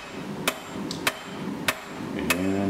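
Four sharp, ringing hammer blows on hot steel at an anvil, spaced about half a second apart, as the tang of a Damascus san mai tanto knife is forged; close and loud with no voices.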